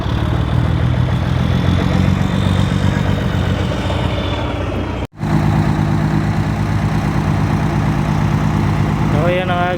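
A machine engine idles at a job site where a boom truck is helping with tower work, giving a steady, loud mechanical drone that continues under people talking, with a brief dropout midway.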